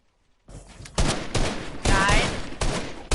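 In a video game, gunfire sprays at the player: after a short silence, several loud, close bursts of rapid shots follow one another in quick succession.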